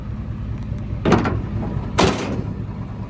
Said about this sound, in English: Tailgate comes down